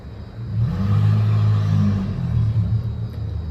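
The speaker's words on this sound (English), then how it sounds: "Do you hear that car? That's accelerating." A car accelerates past with a deep, swelling engine rumble that builds, holds and fades slightly, heard fairly loud and alone.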